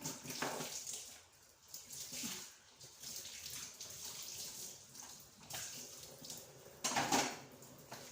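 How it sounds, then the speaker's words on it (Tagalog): Water pours from a tap into a cooking pot in a home kitchen during vegetable cooking, a steady splashing rush with brief louder bursts, close by and with no talk over it. "Tapos lagyan mo siya ng tubig."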